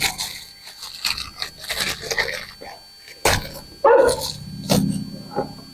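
A dog barks and growls close by in short, loud bursts, mixed with crunching and rustling handling noises.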